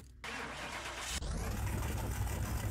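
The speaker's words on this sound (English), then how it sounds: "let's get this one started and see what that Hemi shaker sounds like" A Plymouth Barracuda with a Hemi shaker engine starts in Car Mechanic Simulator: a short crank catches, then it settles into a deep, steady idle with a rich low rumble.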